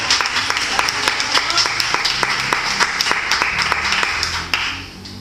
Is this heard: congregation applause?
yes